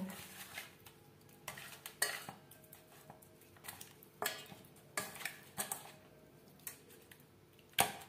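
Rui fish pieces being mixed by hand with salt and turmeric powder in a bowl, giving soft wet squishing and stirring with scattered sharp clinks against the dish, close and fairly quiet.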